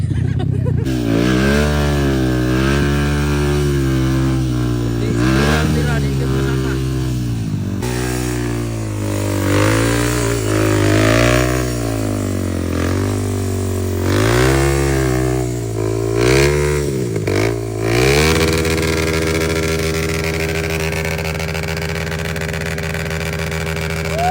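A Yamaha XTZ off-road dirt bike with a loud aftermarket exhaust revs repeatedly up and down in the hills, close and very loud. It ends in a sustained, higher steady roar.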